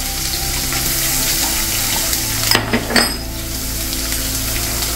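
Crushed garlic hits hot tempering oil with cumin in a pan and sizzles loudly. A brief burst of crackling and spattering rises over the steady frying hiss, and no one speaks.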